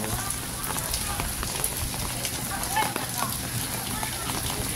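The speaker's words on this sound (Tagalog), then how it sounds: "It's so nice to have a video of Boracay when it's raining." Rain falls in Boracay, a steady close patter and hiss of drops on surfaces with scattered louder drips, continuous throughout.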